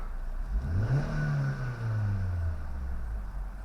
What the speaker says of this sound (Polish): Dodamy gazu jeszcze.